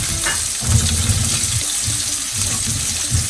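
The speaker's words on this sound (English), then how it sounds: "Now you're going to put your shallots in." Shallots sizzle as they are dropped into a hot pan with toasted cumin seeds, a steady close crackling fry with a few soft stirring bumps.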